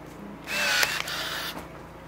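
A Kyocera DSH-120 cordless hedge trimmer cuts overgrown persimmon tree branches: a close electric motor whine rises for about a second, dips briefly, then runs on before easing off.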